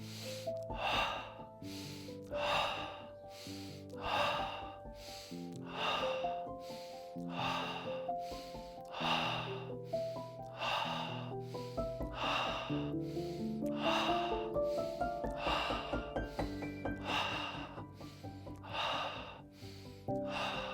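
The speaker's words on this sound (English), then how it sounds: "Inhale, exhale. Inhale, exhale." Deep, steady breathing during a flowing exercise, with about a dozen slow cycles of audible inhales and exhales over soft background music.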